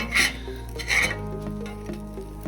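Johnny cakes, a rough pancake-like batter, flipped in a pan, giving two sharp scraping spatula strokes near the start over a steady low sizzle and clatter, with no voices.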